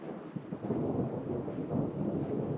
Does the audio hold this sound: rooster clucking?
no